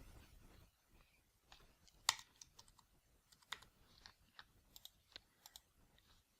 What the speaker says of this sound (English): So let me type this again.